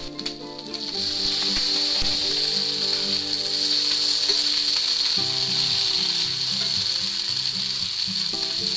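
Onions cooking in a covered pan for home fries with potatoes give a steady, even sizzle that holds at a moderate level throughout, with faint clinks and background sounds beneath it.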